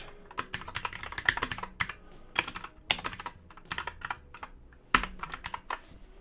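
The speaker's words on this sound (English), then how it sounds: "Just going to type in fruit." Fast, uneven keystrokes on a computer keyboard come through close and clear, with bursts of clicks and short pauses while a word is typed into a web project management app.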